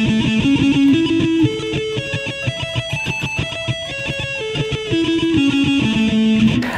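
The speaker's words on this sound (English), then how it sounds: "Now triple picking." Electric guitar arpeggios played with triple picking, each note struck three times in quick even groups, the pitches climbing and then descending in a steady, close, clean rhythm.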